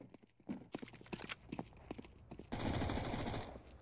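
M249 machine gun fire in Counter-Strike: scattered single shots and short bursts give way to a long continuous burst at the end, fairly close and crisp.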